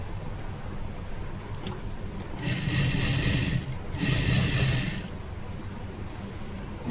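A sewing machine stitches a cover seam on a princess blouse, running in two short bursts of close, fast whirring over a steady background hum.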